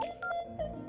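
Telephone keypad tones beep in a quick run of short, bright notes as a number is dialed, close and clear with no voices over them.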